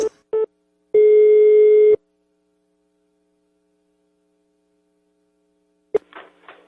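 Telephone tones after a dropped call on a prank phone call, a short beep followed by one long steady tone lasting about a second, then silence and a few faint clicks near the end, with no speech.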